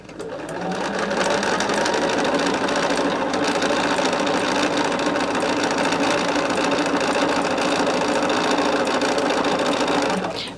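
Sewing machine stitching scrappy quilt blocks together into rows, running in a fast, steady, continuous whir close by. It starts and stops cleanly, with no talking.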